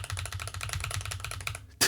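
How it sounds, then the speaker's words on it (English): Rapid clickety-clack typing on a new PC's computer keyboard, a steady dense run of keystrokes close up that stops just before a final louder knock. "the sound of the clickety clack of my keyboard"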